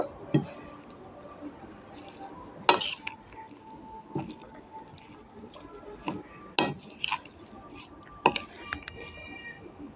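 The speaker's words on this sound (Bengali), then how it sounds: "সস দিয়ে আমি সবগুলো উপকরণ একসাথে মিশিয়ে নিব" Eggs and other ingredients being mixed with sauce in a bowl, heard as soft, wet squishing and stirring with a few sharp clinks of a utensil against the bowl, spaced irregularly through the clip.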